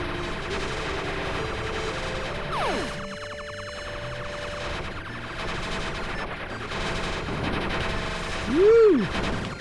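Dense, rapid gunfire crackles almost nonstop in the bullet-hell shooter Super Crome Bullet Purgatory, laced with electronic game tones and a sharp rising-then-falling sweep near the end.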